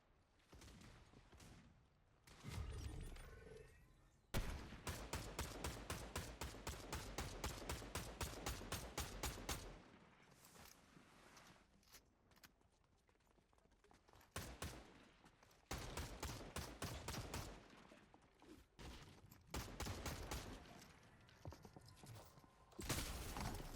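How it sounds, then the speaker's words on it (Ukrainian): Rapid bursts of automatic gunfire in the video game Fortnite, some long sustained volleys and scattered single shots, loud and close, with brief lulls between. "на полю стріляють."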